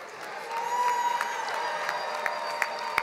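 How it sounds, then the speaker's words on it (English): At a university commencement ceremony, a large audience claps and cheers for public policy graduates; moderately distant applause with whoops and scattered shouts, a few sharper claps standing out near the end. "Let's give a round of applause to the graduates of the Bachelor of Science in Public Policy."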